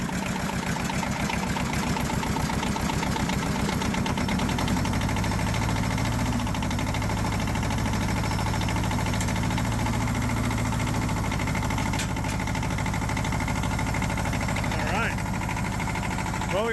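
Engine of a new Wood-Mizer sawmill idling steadily as it warms up, a continuous low rumble with mechanical vibration that stays loud and even throughout.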